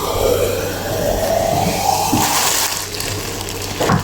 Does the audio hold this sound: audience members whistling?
no